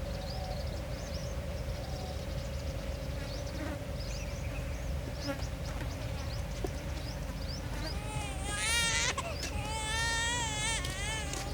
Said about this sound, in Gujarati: છોકરું રોતે અવાજ ના આવતો હા આવે જ છે